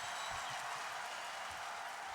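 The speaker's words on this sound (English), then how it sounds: "The applause for Vern Fleming as he sits down" A basketball arena crowd applauds steadily during a Bulls vs Pacers game, a dense, even wash of clapping heard from a distance with no break.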